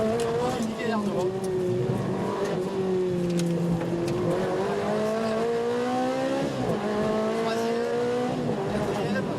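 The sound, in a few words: Ferrari 360 Challenge Stradale driving, shifting gears and braking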